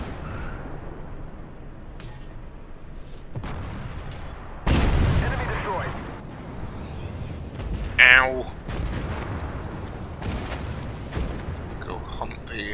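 Tank cannon blasts and gunfire in the Armored Warfare video game, with a few sharp booms and a loud crack rising over game rumble. A player talks over the fighting.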